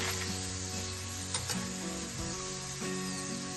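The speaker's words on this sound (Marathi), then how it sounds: "आणि सर्वप्रथम मी हा मुळा घालून घेतली, जो मी स्वच्छ पिळून घेतलेला आहे, आणि याला मिनिटभर परतायचं।" Grated radish greens with red chili, turmeric and coriander powder sautéing in a pan, a low steady sizzle with a few brief scraping and clinking stirs over a faint constant hum.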